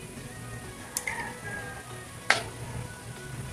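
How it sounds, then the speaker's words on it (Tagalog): A coconut milk sauce for ginataang isda simmering in a pan, a soft steady bubbling sizzle broken by a couple of sharp clinks from a spoon as it is stirred. "So, haluin lang. Hanggang lumapot siya."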